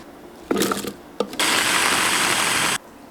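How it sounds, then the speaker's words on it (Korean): A kitchen blender grinding red chili peppers and onion, starting with two short whirring bursts and then running in one loud continuous grind for over a second before cutting off. "홍고추랑 양파를 믹서기에 갈아줄게요"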